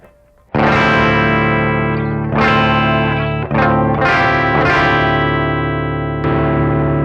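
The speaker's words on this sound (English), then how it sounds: "I'm going to switch over to the fat mode and hear how that sounds with humbuckers" Electric guitar with humbucker pickups played through a Fuel Injector pedal in fat mode, several thick, saturated chords strummed and left ringing one after another, loud and sustained with no talking.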